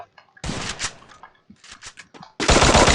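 Automatic gunfire in the mobile shooter Free Fire comes as two loud, rapid bursts, with scattered lighter shots in between, close and sharp.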